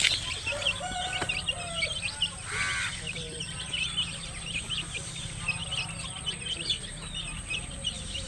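Native country chicks and hens near a house cluck and peep continuously, with many small chirping calls layered over a steady low background hum.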